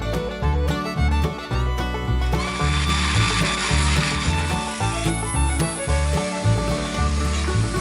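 A drill bores holes into an aluminium plate for mounting cartridge heaters, a continuous loud grinding whir with rhythmic surges and scraping as the bit cuts through the metal.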